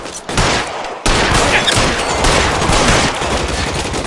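Dense gunfire in LA Noire during a shootout with police, many overlapping rapid shots forming a loud, continuous fusillade that barely lets up over a few seconds.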